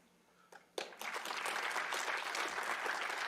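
Applause at an awards ceremony for the Academy Award nominees, starting with a few scattered claps, then swelling into sustained, dense clapping from a large audience.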